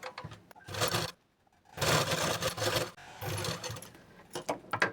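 A sewing machine runs straight stitching on folded blouse fabric in three bursts of rapid needle chatter, separated by brief quiet stops, ending with a few short spurts.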